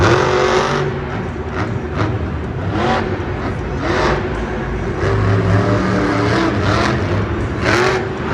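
A Monster Jam monster truck roars through a freestyle run at an Indianapolis stadium, its engine rising and falling in repeated loud revving surges while the truck pulls a sky wheelie and launches into the air.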